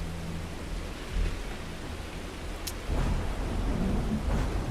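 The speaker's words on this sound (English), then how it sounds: "Raining, eh?" Steady rain hisses down in the Starfield video game, with deep rolls of thunder rumbling underneath and a brief sharp crackle partway through.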